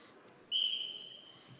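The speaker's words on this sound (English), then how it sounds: "off the whistle" A referee at a high school Class A wrestling dual blows one sharp, high whistle blast that quickly fades over quiet gym ambience.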